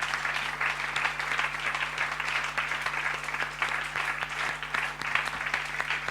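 A church congregation applauds steadily at a Sunday service, a dense, even wash of many hands clapping at moderate distance with no pauses.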